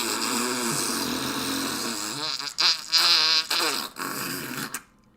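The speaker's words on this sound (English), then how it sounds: "it should be like a fart noise with like the sound of losing a game on The Price" A fart noise sound effect plays as a long, buzzy, sputtering rasp that breaks into several rough bursts before fading, loud and alone.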